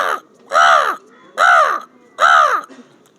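A human voice imitates a crow's caw: three loud, harsh, nasal caws, close and evenly spaced with short pauses between them.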